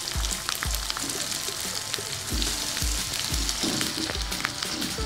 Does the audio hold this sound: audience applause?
no